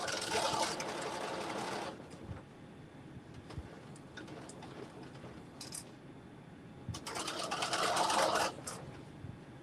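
A sewing machine backstitches a seam on a McCalls 7892 garment, running in two loud bursts at the start and end with a quieter pause of handling noise between them.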